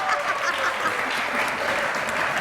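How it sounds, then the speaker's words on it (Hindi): Audience at a television show applauding, a close, lively burst of many hands clapping that stays steady and full from start to finish. "उनके लिए तालियां।"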